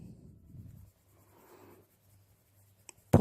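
Polychromos colored pencil pressed firmly and blended across paper, a soft close scratching and rubbing that fades to near silence before a sudden loud knock at the end.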